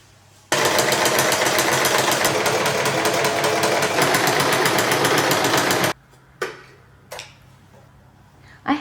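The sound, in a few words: sewing machine stitching fabric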